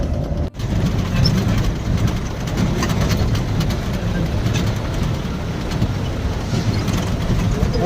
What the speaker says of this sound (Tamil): ட்ரெயின் போகுது பார்,